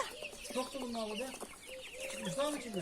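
Broiler chicks in a homemade cage chirp steadily and overlap in a busy, high-pitched chorus, close by, with some chicken clucking mixed in and no talk.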